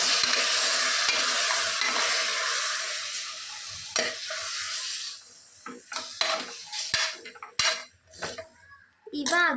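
Green chicken gravy is stirred in a pan, with loud continuous sizzling at first that fades into scattered scrapes and clinks of a spoon against the metal, while a voice speaks briefly under it.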